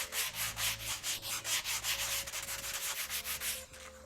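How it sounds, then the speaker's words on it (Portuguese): A sanding block wrapped in 80-grit sandpaper scrubs along the grain of a thin wooden surfboard fin in steady, rhythmic back-and-forth strokes, close and clear, with no talking. "Utilizamos um bloco de lixa e uma lixa 80, então. Lixamos no sentido dos veios da madeira"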